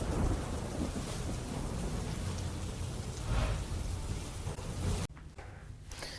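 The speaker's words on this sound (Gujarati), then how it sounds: "ગામમાં ભારે વરસાદ વરસ્યો છે" Heavy rain pours steadily during a storm in a village near Dwarka, Gujarat, a dense close roar of downpour with low rumbling thunder beneath it, easing slightly near the end; no voices.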